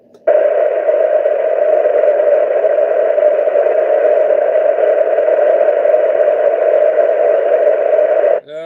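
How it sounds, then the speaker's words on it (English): A loud, steady buzzing drone of digital interference on CB radio channel 36, continuous for about eight seconds before cutting off abruptly. "that digital noise is back on 36 there"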